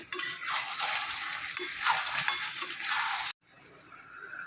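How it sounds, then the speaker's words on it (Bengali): Chicken meat with chopped tomato stirred in a pan, close scraping and soft sizzling for a few seconds before a sudden drop to a quieter hiss. "এরপর মাংসটা নেড়ে নেবেন।"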